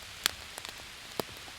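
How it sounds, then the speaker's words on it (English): Light rain falling at 43 degrees outdoors near a poncho shelter, heard as a faint steady patter with a few sharp, close drips landing on a surface. "It's 43 degrees and light rain currently."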